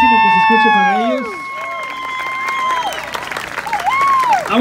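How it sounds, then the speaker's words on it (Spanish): At a quinceañera party, a crowd applauds and cheers loudly under blaring music, with people talking over the noise. "Es un aplauso fuertísimo que se escuche para ellos."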